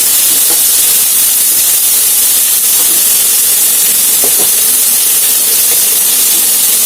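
Onions and spice mix frying in a pan, giving a steady, loud broadband sizzle with scattered crackles and pops throughout, with no voices.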